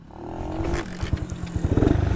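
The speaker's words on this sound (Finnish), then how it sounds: "Oho, mopohan lähti käyntiin." An old Honda Daxi-style moped engine sputters and catches after a scrape and clatter, then settles into a close, uneven, rapidly pulsing idle.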